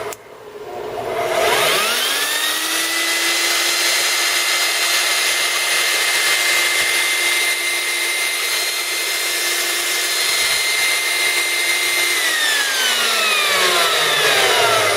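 A 4-inch portable band saw spins up from rest to full speed and holds a loud, steady whine with a high metallic ring, then winds down near the end, heard close with no speech.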